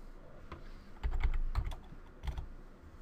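Clicky computer keyboard keys typed in short bursts as a web address goes in on a Windows 8 machine, close and fairly loud, with pauses between runs of keystrokes.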